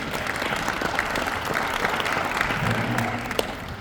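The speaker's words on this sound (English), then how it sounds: "give yourself a round of applause for being here" Audience at a town hall meeting with the NAACP in Pasadena giving a round of applause, dense continuous clapping from a room of people, fairly loud and steady throughout.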